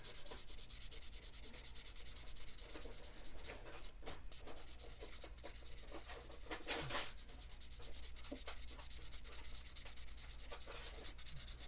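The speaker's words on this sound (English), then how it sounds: "Using a fine grit sandpaper." Fine grit sandpaper rubs steadily over a small customized figure part, a soft continuous scratching heard close and faint with no other sounds.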